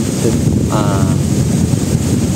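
Steady wind buffeting the microphone at a campsite, a loud continuous rumble with no clear breaks.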